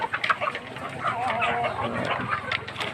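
A flock of Hubbard heritage chickens clucks steadily in their poultry room, a dense, close chorus of overlapping short calls with no talking.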